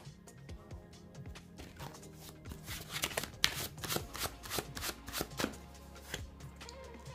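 Oracle cards for a tarot reading being shuffled and handled close up, a rapid run of crisp riffling flicks and slaps that grows busier in the middle, with faint background tones.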